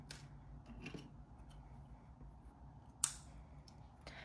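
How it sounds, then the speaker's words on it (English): Scissors snip through a crochet yarn tail, a single sharp close click near the end among faint handling rustles, otherwise quiet. "Once that's done, you can just cut your tail off"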